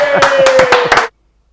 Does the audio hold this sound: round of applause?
yes